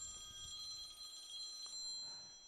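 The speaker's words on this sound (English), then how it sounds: "I didn't turn my ringer down. I got a phone call." A cell phone rings faintly with an incoming call during a sports live stream, a steady electronic ringtone with sustained tonal pulses held at low level across the whole moment, with no talk over it.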